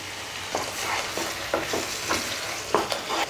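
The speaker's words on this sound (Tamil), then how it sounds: "2 மீடியம் சைஸ் தக்காளியை அரைச்சி சேர்த்துக்கலாம்." Two medium tomatoes, ground to a paste, fry in masala in a pan for chicken tikka masala curry, giving a constant close sizzle with regular scraping strokes of a stirring spoon.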